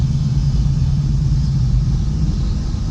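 A 2019 Ford Mustang GT with an X-pipe exhaust cruises through city streets, its engine a steady, loud, deep rumble with little change in pitch, heard from inside the car and alone.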